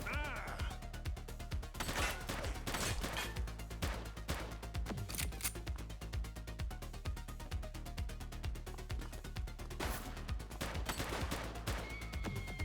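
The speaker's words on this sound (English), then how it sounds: "She's shooting!" Gunfire in the police video game The Precinct: a rapid rhythmic string of sharp shots running through the whole stretch, with a few louder bursts and short callouts.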